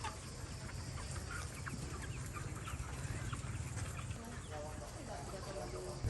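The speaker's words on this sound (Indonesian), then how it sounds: "peternakan unggas ini juga dinilai berisik" Chickens at a poultry farm in a residential area of Banjarbaru, a continuous dense din of clucking and crowing birds under what may be a narrator's voice.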